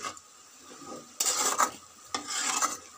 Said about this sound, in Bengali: সরষে শাকটা ভেজে নিচ্ছি বন্ধুরা, একটু নুন হলুদ দিলাম